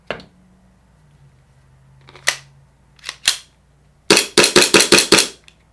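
A TTI Pit Viper airsoft pistol loaded with a Tokyo Marui magazine fires sharp, close snapping shots, a few single cracks spaced apart, then a quick rhythmic burst of about six rapid shots.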